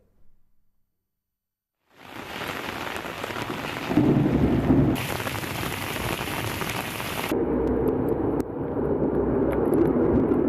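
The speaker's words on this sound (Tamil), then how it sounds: "காற்றுடன் கூடிய கனமழை வெளுத்து வாங்கியது" Heavy rain pours down loudly with gusting wind and rumbling thunder during a storm in Pudukkottai district, Tamil Nadu, beginning abruptly after a brief silence and continuing as a dense, steady roar.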